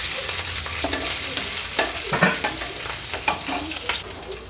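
Whole spices, ginger and garlic frying in oil for a hotel-style veg biryani, a steady hiss of sizzling with scattered crackles and spoon scrapes through the pan, close and continuous with no talking.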